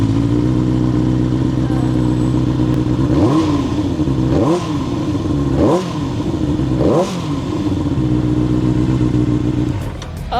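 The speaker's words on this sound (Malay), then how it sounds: "So sekarang ni saya belanjakan sikit motor Benelli TNT 600" A Benelli TNT 600 motorcycle's engine runs steadily at close range, with four short revs rising and falling over the continuous idle, and no talking.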